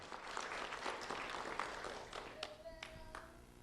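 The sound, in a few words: audience applauding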